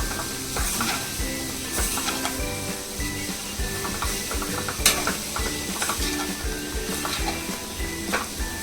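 Jackfruit dry masala stirred in a pan over a gas flame, with a spoon scraping and clattering in quick repeated strokes over a steady close sizzle.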